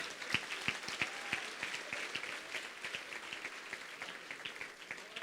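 Congregation applauding during a church celebration service, a steady wash of many hands clapping at moderate distance with sharper individual claps standing out, sustained evenly throughout.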